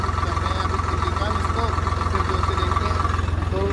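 A Swaraj 744 tractor engine runs on a wet field, chugging in a steady, pulsing low rumble close by, with a voice talking over it.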